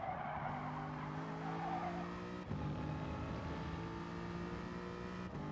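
Race car engine droning under continuous tire skids and squeals in Gran Turismo Sport, with a steady loud roar and brief shifts in pitch, no voices.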